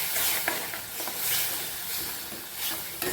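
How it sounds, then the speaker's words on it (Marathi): Masala paste sizzles in hot oil for chana masala as a spoon stirs it, a close, steady frying hiss broken by soft scraping strokes, with no talk. "आता याच्यामध्ये आपण ही पेस्ट तयार केली ना, ते टाकू."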